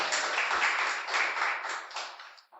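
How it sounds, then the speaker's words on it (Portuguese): A church congregation applauding, a dense patter of many hands clapping that stays steady for a couple of seconds before tapering off abruptly. "Você pode aplaudir o nome dele?"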